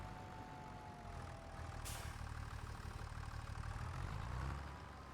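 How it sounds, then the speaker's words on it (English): A tractor engine idling in the Farming Simulator 25 game, a steady low rumble that swells slightly toward the end, with a faint tonal whine early on and a brief sharp click near the middle. "let's jump out of the tractor real quick here"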